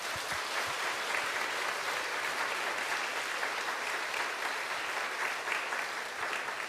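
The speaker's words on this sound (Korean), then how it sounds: "여러분 큰 박수 부탁드립니다" A church congregation applauds during a Sunday worship service, a steady wash of many hands clapping at a moderate, even level throughout.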